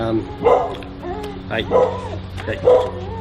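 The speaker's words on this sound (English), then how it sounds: "Got a couple of dogs barking in this outside makeshift studio" A couple of dogs bark and yip outdoors beside a makeshift studio, three separate bursts spaced about a second apart at moderate distance, with a steady low hum underneath.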